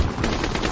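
Rapid automatic gunfire from a Call of Duty match rattles continuously through a brief, dense burst, loud and close with no pauses.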